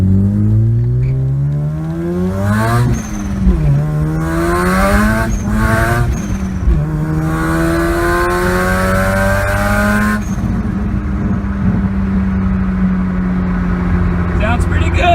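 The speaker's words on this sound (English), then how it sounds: "Listen to that blow-off valve." A single-turbo Mazda RX-7 FD fitted with an HKS blow-off valve makes pulls through first to third gear at 10 psi. The rotary engine revs hard and loud up and down, with sharp bursts as the valve vents between gears. A voice talks over parts of it.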